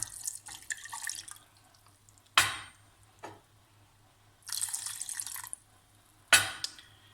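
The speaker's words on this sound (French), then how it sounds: "vous allez ajouter vos 2 verres d'eau" Water from a tap runs in two bursts, splashing into a mixture of flour for homemade glue, with short clinks and drips between pours in a quiet room.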